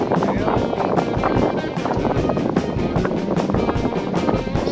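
Strong, gusty wind buffets the microphone while sailing a boat on a reach among hillsides, a constant loud roar of rushing air and water with no talk.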